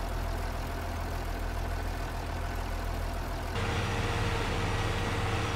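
A tractor engine in a farming game pulling a loaded trailer, a steady low droning hum that grows louder and heavier partway through, continuous with no speech.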